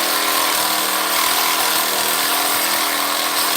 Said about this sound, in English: We're going to cut that little piece of copper off.